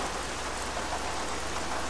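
Steady, heavy rainfall in the military simulation game Arma hisses continuously, a dense even wash of drops with no voices.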